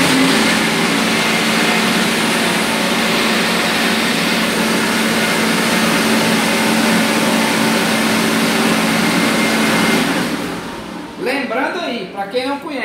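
A remapped Yamaha MT-03 300cc motorcycle engine revs hard and holds a loud, steady high-pitched drone, then drops off into rapid throttle blips and gear changes near the end.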